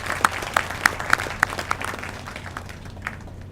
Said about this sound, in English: please join me to give a round of applause for that achievement